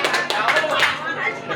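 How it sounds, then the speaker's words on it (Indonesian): A small audience at a Sundanese sermon claps steadily and continuously, close by, with voices mixed into the clapping. "Heuy tepuk tangan dong."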